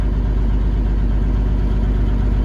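A cold truck engine, loaded up with the exhaust brake applied, rumbles deep and steady, close and loud throughout, labouring evenly without revving up or down.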